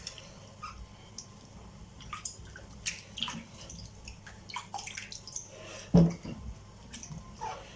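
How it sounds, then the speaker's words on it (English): Quiet splashing and dripping water with occasional louder sloshes as yam pieces are rubbed and rinsed by hand in a pot, soft and close. "So right now I'm going to wash the yam."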